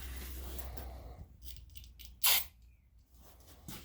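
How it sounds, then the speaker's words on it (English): A short, sharp hiss of brake cleaner sprayed from an aerosol can, a single burst standing out against quiet background noise. "you can spray some brake clean in it"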